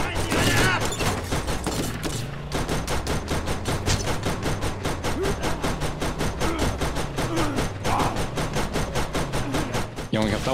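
Sustained automatic gunfire from the video game Borderlands rattles out in a fast, steady stream of close shots, nearly unbroken, with voices talking over it.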